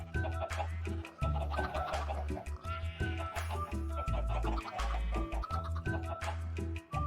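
Chickens in Minecraft, egg-laying birds in an automated farm, clucking in short repeated bursts over a loud, rhythmic game soundtrack, with no talking.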